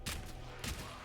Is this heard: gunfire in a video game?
yes